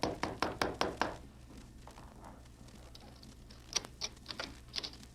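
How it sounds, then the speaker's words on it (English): A radio drama sound effect of knocking on a door: a quick run of about six sharp, evenly spaced raps, close and clear, followed by soft scattered taps against a low steady hum. "He knocked on the door."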